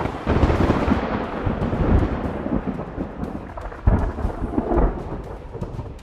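Heavy rain and strong wind during Cyclone Biparjoy in Shahbandar and Kharo Chan, a loud dense roar with deep thunder rumbles swelling and surging throughout, no voices.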